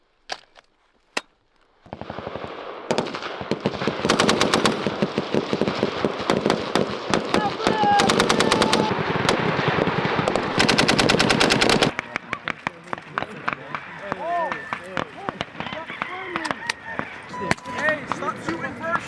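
Sustained bursts of heavy machine gun fire during a US Army drone-and-gun exercise, loud and continuous with dense rapid reports, easing into scattered shots and shouting voices toward the end.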